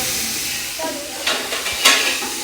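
Tomatoes, onion and green chillies frying in a pot for aloo matar pulao, a close hissing sizzle with stirring scrapes and a couple of louder bursts of spatter.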